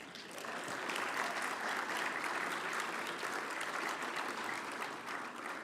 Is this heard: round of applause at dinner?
yes